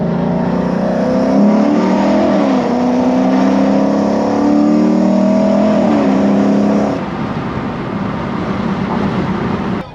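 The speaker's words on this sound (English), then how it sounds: "The car sounds amazing." A Lexus IS F V8 fitted with an RR Racing intake and tune revs hard, its loud droning engine note climbing in pitch through rising sweeps before easing off to a lower rumble.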